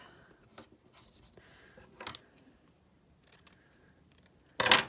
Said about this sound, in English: I could cut a couple branches.